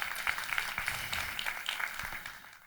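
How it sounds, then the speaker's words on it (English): Applause from a library lecture audience, an even crackle of many hands clapping that stays moderate and gradually fades toward the end. "give yourselves a round of applause"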